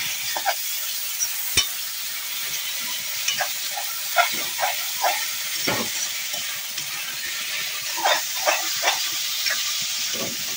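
Onions fry and sizzle in a pan as tomatoes are added for a crab broth, with a steady close hiss and scattered stirring scrapes and pops; no voices.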